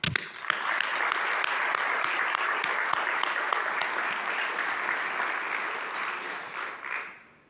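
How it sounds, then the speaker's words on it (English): A crowd at a Knoxville community meeting breaks into long sustained applause, loud and even for several seconds before fading out at the close. "can we please give a huge round of applause to Congressman Tim Burchett and our U.S. Senators"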